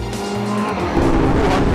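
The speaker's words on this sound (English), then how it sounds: "the 458's V8 comes across as a revelation" Ferrari 458 Italia with its free-breathing V8 engine, driven hard on the Buddh International Circuit; a loud, close engine note shifting pitch as it revs, with tyre noise underneath.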